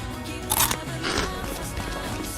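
Zigzag-cut Potabi potato chips with roasted seaweed bits give a few sharp, close crunches in quick succession, loud against a dense background of advert music.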